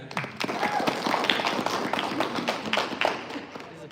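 Audience at a Star Wars family event clapping to vote for the Jedi, scattered moderate applause from a small group with individual claps audible, mixed with voices talking underneath.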